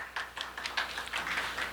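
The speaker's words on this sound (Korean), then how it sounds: "대상을 수상하신 진료센터의 모든 관계자분들 위해 다시 한번 큰 박수" Scattered hand clapping at an award ceremony for traditional Korean medicine, faint and sparse, with uneven claps from a small crowd heard at some distance.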